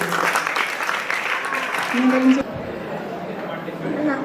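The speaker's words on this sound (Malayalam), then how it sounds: "ഒരു നല്ല കൈയടി കൊടുക്കും" An audience at a Mohiniyattam lecture demonstration breaks into applause, a steady patter of clapping from many hands that fades after a few seconds as a voice speaks over it.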